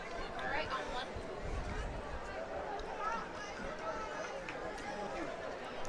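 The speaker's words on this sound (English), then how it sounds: "Huge crowd here." A large crowd murmurs and chatters at a homecoming high school football game at Peabody against Halls, a steady distant hubbub of babble and movement with no single voice standing out.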